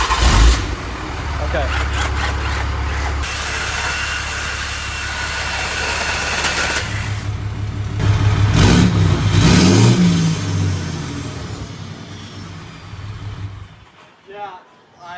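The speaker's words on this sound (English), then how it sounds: "So what I'm gonna do now is start the truck and hear the sound difference with the muffler cut off." A third-generation Cummins diesel pickup with its muffler cut off starts up and revs, a loud, deep engine rumble running through most of the clip with surges of acceleration, a person speaking briefly over it before it cuts off near the end.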